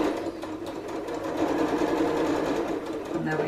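A sewing machine stitches the seams of a jacket, a close, steady mechanical hum running throughout.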